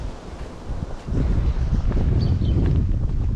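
Wind buffets the microphone in a low, rumbling roar that swells after the first second and stays loud and constant, strong enough to ban boating near Guellala on Djerba.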